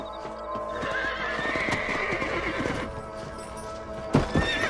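Horses gallop with quick, rhythmic hoofbeats, and a loud neigh breaks out near the end, all close and clear without talk, in the video game Red Dead Redemption.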